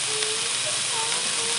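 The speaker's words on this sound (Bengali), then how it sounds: "হালকা আঁচে ভালো করে ভাজতে হবে।" Lote (Bombay duck) fish frying in oil over a low flame, a steady, bright sizzling hiss that stays even and continuous throughout.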